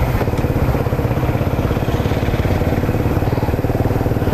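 A habal-habal motorcycle taxi engine runs close and loud in a steady, throbbing putter that holds constant from start to finish.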